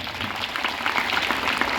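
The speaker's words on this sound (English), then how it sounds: "Claps for her." Schoolgirls at a farewell-day celebration in a girls' high school clap together in a short, dense burst of applause that stays at an even level, with no talking over it.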